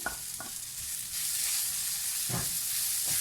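Fresh parsley is dropped into a hot frying pan at the end of cooking, setting off a steady hissing sizzle that swells partway through, broken by a few scraping stirs.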